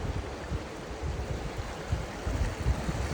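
River water surging in a lagoon on the Trinity River, a low continuous rush with soft rolling pulses like small waves, steady and fairly close, no voices.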